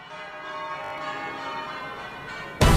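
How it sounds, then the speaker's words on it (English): Twelve church bells ring in full peal at Guildford Cathedral during a national twelve-bell striking contest, a dense, sustained wash of overlapping tones that swells steadily before a sudden loud burst near the end. "Live from Guildford Cathedral, the National 12-Bell Striking Contest with Matthew Tosh."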